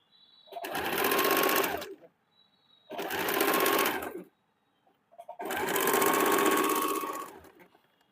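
A sewing machine runs three strong bursts of rapid stitching along the side seam of a blouse, close and loud, with short quiet pauses between runs.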